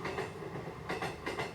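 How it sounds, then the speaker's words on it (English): A train rolls along a nearby track, a steady broadband rumble with rhythmic clacking bursts repeating about every half second, loud and close with no talking. "I'm right by a train track in case you didn't know."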